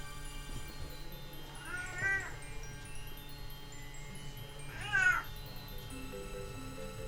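A cat meows twice indoors, two distinct drawn-out calls a few seconds apart over a quiet background hum.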